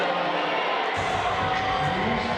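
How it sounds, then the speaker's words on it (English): Basketball crowd in a WNBL women's game between the Canberra Capitals and Adelaide Lightning reacting to a referee's call: a loud, sustained wave of booing and jeering that swells after a moment, with a commentator talking over it. "The crowd certainly don't like the call."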